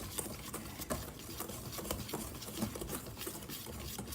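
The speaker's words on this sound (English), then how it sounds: "we're just gonna take a whisk, and basically this is the poor man's way of sifting" A whisk scraping and tapping around a bowl of dry pancake ingredients for pumpkin chocolate chip pancakes, a steady quiet patter of light strokes with no speech.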